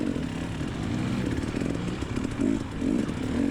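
Dirt bikes racing in a hare scramble, two-stroke-style engines droning and revving unevenly, with louder surges as riders pass nearby over a continuous motor buzz.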